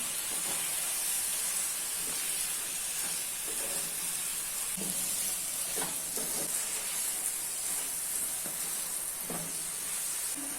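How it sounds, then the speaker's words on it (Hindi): Fried chicken pieces stirred into a sizzling tikka masala gravy in a pan, giving a steady hiss and sizzle with occasional soft scraping of the spoon, continuous and close. "अभी इसमें फ्राई किए हुए चिकन के पीसेस ऐड कर लेना है और मिक्स कर लेना है।"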